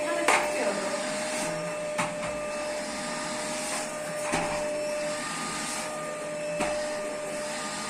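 A household electric vacuum cleaner runs steadily throughout, a loud continuous whine with a few bumps and knocks as it is pushed around a home.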